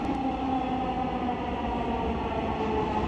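A Dhaka metro train running near Uttara North station: a steady, loud mechanical hum with sustained whining tones and a constant rumble, unbroken for the whole stretch with no talking.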